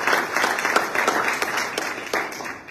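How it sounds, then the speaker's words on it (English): A crowd applauds at a basic training graduation ceremony, a steady, dense wash of many hands clapping close by that keeps going throughout without voices. "So let's give them a round of applause."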